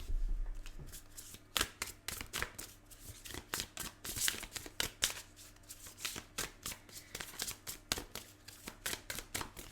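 Tarot cards being shuffled close up, a long run of crisp riffling and slapping bursts in an uneven rhythm, quiet overall with no talking.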